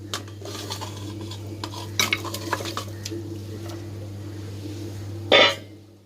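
Metal spoon scraping and clinking against a pan as country chicken (nattukozhi) vathakkal curry with chilli powder is stirred, a few scattered clatters over a steady low hum, ending in one louder scrape.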